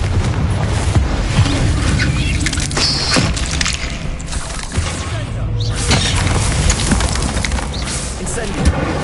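Confringo fire spells burst again and again in Hogwarts Legacy, loud booming blasts with crashing, shattering debris over a dense, steady action mix, with voices in it.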